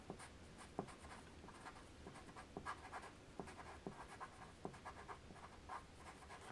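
Pencil eraser rubbing across paper while softening out-of-focus areas of a rose drawing, a close, dry scratchy scrubbing in irregular short strokes with small taps, continuous and alone.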